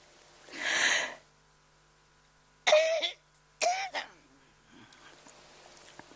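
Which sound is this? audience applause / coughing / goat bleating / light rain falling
coughing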